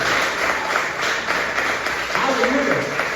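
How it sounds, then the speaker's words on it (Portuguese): A church congregation meeting in a garage applauds together, a dense, sustained wash of clapping that runs throughout, with a voice rising briefly over it near the end. "aplaudir seu Senhor bem forte"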